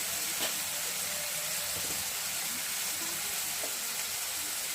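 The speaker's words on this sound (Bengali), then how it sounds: "আর ওইদিকে উচ্ছে ভাজা হচ্ছে, এখনও হয়নি, আস্তে আস্তে হচ্ছে" Bitter gourd fries in a pan, giving a steady, unbroken sizzling hiss at close range with no gaps, broken only by a few faint clinks.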